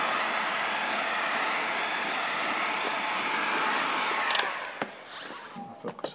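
A heat gun blows a steady, loud whooshing roar while warming 3M cast wrap film on a Jeep grill inlay, then cuts off near the end, leaving faint handling noises and light clicks.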